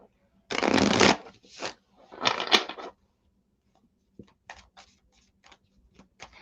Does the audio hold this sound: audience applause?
no